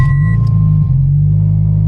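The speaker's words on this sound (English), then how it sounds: "Let's see if we can start the vehicle up." A Subaru BRZ engine cranks and catches, then settles into a steady, loud low idle rumble close by, with a brief electronic chime at the start and no talk.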